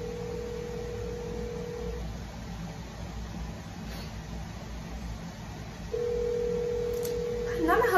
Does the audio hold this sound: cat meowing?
no